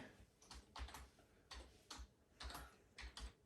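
A Wi-Fi password typed on a computer keyboard during first setup of a Raspberry Pi, heard as faint, close key taps in a few quick bursts separated by short pauses.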